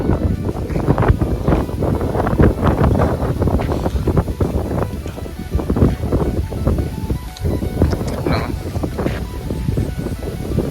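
Strong wind blowing across an open outdoor cafe area, buffeting the microphone with a loud, continuous rumbling roar that gusts and surges throughout.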